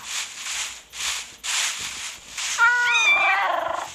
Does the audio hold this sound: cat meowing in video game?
yes